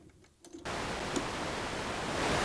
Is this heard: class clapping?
no